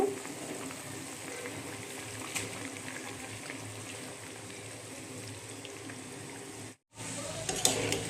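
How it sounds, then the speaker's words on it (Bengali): Dheki fern greens go into a pot of simmering, partly cooked lentils in a Bengali kitchen and are stirred. A steady, close bubbling hiss with soft stirring scrapes carries throughout, broken by a brief gap near the end. "এখন এই অবস্থাতেই আমি শাকটা দিয়ে দেব।"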